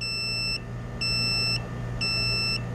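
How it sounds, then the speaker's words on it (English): Electronic trouble-code beeps from a Mercruiser MEFI marine engine sound in a steady on-off pattern, three sustained high-pitched tones about half a second each, clear over a low hum. "You hear one short beep,"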